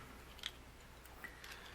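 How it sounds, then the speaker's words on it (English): A German pantographic paratrooper knife, a 1980s Valor copy, clicks faintly as it scissors open, giving a few small sharp ticks spread over a quiet background. "It scissors open. The collar slides down."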